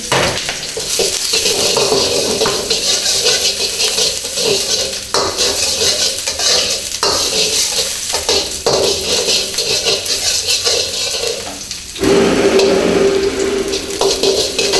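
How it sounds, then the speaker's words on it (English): Onion, garlic and ginger sauté in a pan for stir-fried black pepper beef, with a steady broad sizzle and repeated scraping and clinking of a utensil against the pan throughout. "And then saute the onion, garlic, and also the ginger until fragrant."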